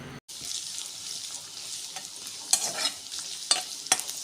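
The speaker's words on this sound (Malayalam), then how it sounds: "നമ്മൾ അരിഞ്ഞു വെച്ചിട്ടുള്ള ഇഞ്ചിയും വെളുത്തുള്ളിയും കൂടെ ചേർത്ത് കൊടുക്കാം ഇനി അതൊന്ന് വഴന്നു വരട്ടെ" Ginger, garlic and coconut pieces sautéing in a pan, a steady sizzle broken by several sharp scraping stirs of a spatula, close and alone.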